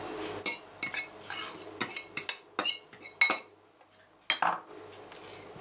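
Fried onion and finely grated cheese are stirred together in a bowl for a beef roll filling, giving a run of irregular clinks and scrapes of a utensil against the dish, close and fairly quiet, with short pauses between bursts.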